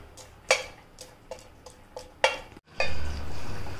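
Whole cardamom pods are dry-roasted in a pan, making a series of sharp rattling clicks and scrapes as they are stirred, followed by a steadier low rumble. No one speaks.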